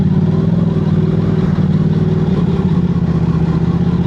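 A Suzuki GSX-R1000 engine drones steady and loud under a rider, holding a constant mid-pitched hum with slight wavering and no voices.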